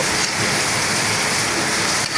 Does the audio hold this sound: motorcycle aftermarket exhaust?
no